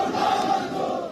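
A large crowd of protesters in PoK shouts in unison for about a second, a dense, roaring chant that sounds somewhat distant.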